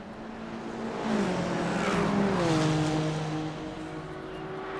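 GT3 race cars of three different brands battle in a sim racing game, one being a Lamborghini, with engines revving and shifting as they pass close by in a loud, rising-and-falling burst of engine noise.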